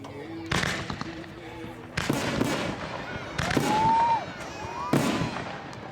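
White Knight artillery shell fireworks bursting outdoors, four sharp loud explosions spaced about a second or more apart, each followed by crackling and a whistling tail, with faint voices in between.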